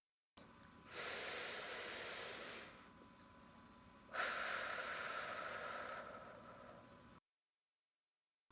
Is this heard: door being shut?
no